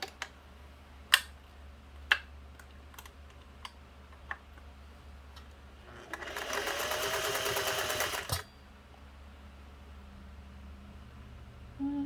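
A Singer 401a sewing machine stitches a tiny zigzag in one steady whirring run of about two seconds, preceded by a series of sharp isolated clicks from the mechanism, close and otherwise quiet.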